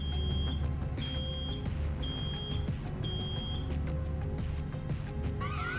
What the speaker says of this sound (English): It's an alarm!